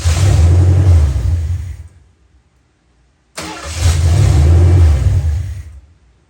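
A 1972 Mercury Comet with a four-barrel carburetor problem cranks and fires up with a loud, rough engine roar that fades and dies within two seconds, then after a brief silence starts again abruptly and runs a few seconds before trailing off once more.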